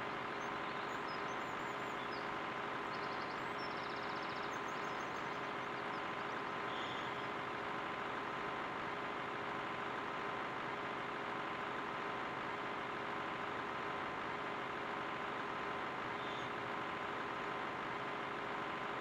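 Farm machinery in Farming Simulator 2013 drives with a steady, droning engine hum that holds constant and fairly loud throughout, with no talk.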